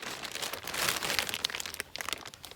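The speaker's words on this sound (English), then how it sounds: "So some are going in these plastic bags." Plastic bags crinkle and rustle continuously in a greenhouse, with dense crackling bursts and brief crunches close up, and no voices.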